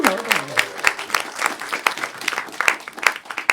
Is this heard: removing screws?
no